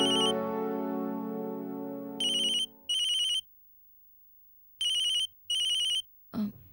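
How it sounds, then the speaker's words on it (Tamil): A telephone rings indoors in a Tamil family drama scene: four loud, evenly spaced electronic ringing bursts with short silent gaps, following a sustained tone at the start and ending in a brief clatter. "வந்தனாதா ஃபோன்"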